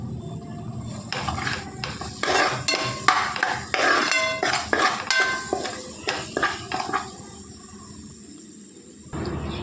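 Coriander powder being stirred into korameenu fish curry in a pan, heard as a run of clinking, scraping strokes of a spoon against the metal pan, fairly close, with a quiet stretch near the end.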